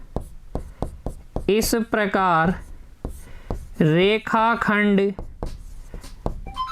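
Chalk or pen strokes during a maths lesson on geometric constructions, a series of short, sharp taps and scratches spread evenly throughout, with someone speaking over much of it.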